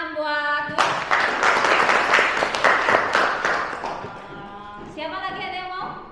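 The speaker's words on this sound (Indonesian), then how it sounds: "Oke, tepuk tangan buat Dwi." Students in a classroom give a short burst of clapping for a classmate, loud and close for about four seconds, with a teacher's voice speaking before and after it.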